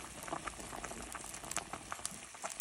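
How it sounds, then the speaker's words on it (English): Artichoke broth bubbles at a rolling boil in a pot, a quiet, steady mass of small pops and gurgles with no voices. "It's boiling."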